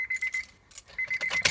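A car key turns the ignition off during immobilizer programming with a Fly100 programmer, making a short metallic jingle and rattle of the keys in a few quick bursts, close and fairly quiet, with no talking.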